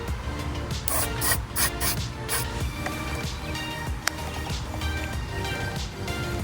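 Aerosol spray hisses onto a Honda Navi motorcycle grip before it is pushed onto the handlebar: several short, bright spurts early on, then steadier rubbing and friction noise at close range.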